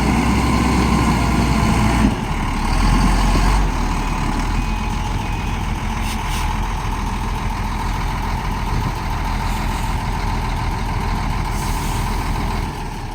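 A Shacman 380 heavy truck loaded with rocks climbs uphill, its diesel engine roaring loudly and steadily up close for the whole stretch, with no voices over it.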